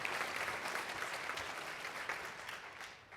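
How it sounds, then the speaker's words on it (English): Applause from a faculty conference audience fills the room, a dense, steady patter of many hands that holds at moderate level and thins slightly toward the end, with no voices over it. "give Amy Beth a round of applause"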